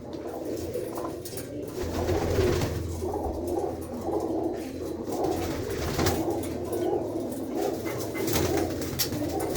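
Pigeons cooing continuously nearby, overlapping soft throaty calls with occasional wing flutters and small rustles.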